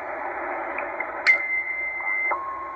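WWV shortwave time station from Colorado received on a Tecsun H-501X radio at 15,000 kHz, a band of hissy static with a sharp tick and a steady sustained tone that then drops to a lower pitch.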